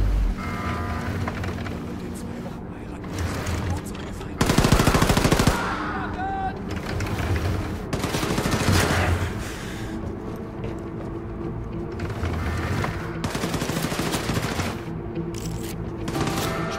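Rapid machine-gun bursts ring out in Wolfenstein 2 gameplay on the Switch, loud rattling volleys repeating in several separate runs over a dense, droning game soundtrack.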